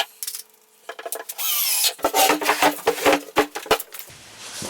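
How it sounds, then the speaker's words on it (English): A cabinet is fastened down onto a mobile tablesaw workstation: a bright burst of power-driver whirring, then a busy run of knocks, rubs and screw-driving clatter against wood, close up with short pauses. "and now I can fasten it down"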